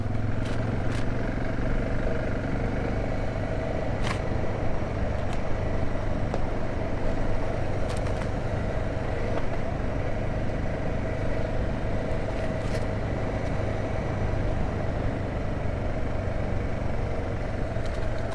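Vehicle creeping slowly in first and second gear along a bush track, a steady low engine drone with faint scattered clicks and brush noises, moderately quiet throughout with no talk.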